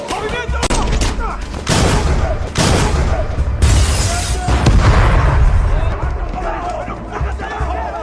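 Gunfire in a tactical combat scenario after an order to open fire: loud, close bursts of rapid shots and booming blasts come in several volleys over a noisy background, with voices and crowd babble mixed in.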